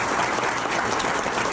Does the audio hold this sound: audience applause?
yes